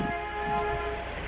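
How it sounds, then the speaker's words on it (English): A train passes right beside a living room, heard over a phone line as a steady rumble with sustained horn-like tones, loud and continuous for a moment, with no talk. "Oh, no, that's a train."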